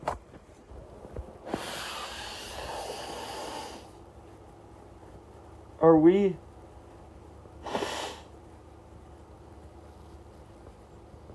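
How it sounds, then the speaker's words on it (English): A person blows their nose during a spoken motivational talk, with a few short, breathy bursts standing out between stretches of speech. "I got to blow my nose again"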